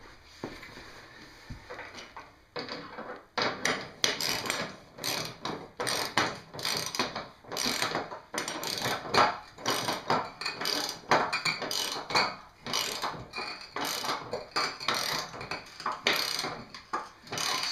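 A ratchet clicks in rapid bursts while tightening the skid shoe bolts on a snowblower, with repeated close, loud strokes in an uneven rhythm and brief pauses between them.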